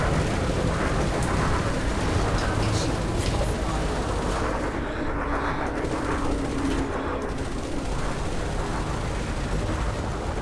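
Multi-cannon fire from a ship in the space game Elite Dangerous: a dense, continuous roar of rapid shots and booms, loud and unbroken for the whole stretch.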